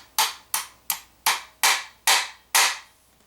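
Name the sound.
light tap with a hammer on Remington shotgun pin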